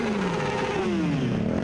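Motorcycles ridden by bikers at a solidarity rally in Quetta, engines droning and revving up and down close by, a continuous whirring growl that shifts in pitch as the bikes pass.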